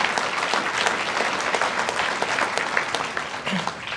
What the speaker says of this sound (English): So one more round of applause for those supportive staff and administrative staff